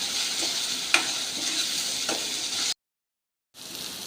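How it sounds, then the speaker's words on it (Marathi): Onion and half a tomato sizzle steadily in a pan while a spoon scrapes and stirs now and then, up close, before a brief silence and then more sizzling. "आता हा कांदा लाल होईपर्यंत आपण परतून घेऊया"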